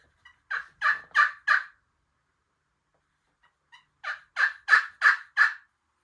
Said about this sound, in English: So that yelp is the most common sound that turkeys make.